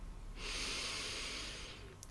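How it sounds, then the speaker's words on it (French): A single steady inhalation through the nose during a relaxation breathing exercise, a soft airy hiss lasting over a second, close and clear with no talking. "Tu inspires par le nez,"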